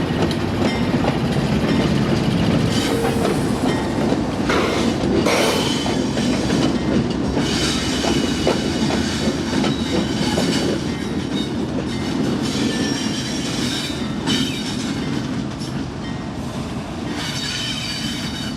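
Union Pacific locomotives roll along a spur track beside parked grain hoppers, a steady nearby rumble of rail wheels with repeated squeals and clicking joints that carries on without a break.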